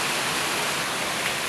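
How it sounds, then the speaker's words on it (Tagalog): Rain falls in a steady, even hiss, a brief unbroken wash of sound with no voices. "So umuulan ngayon mga kaluto, no?"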